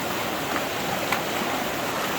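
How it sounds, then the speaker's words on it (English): Water rushing and splashing as a gold sluice box is rinsed out into a bucket at a New Zealand creek, a steady close wash of noise with no pauses. "Now we're just going to rinse the sluice box off into our bucket."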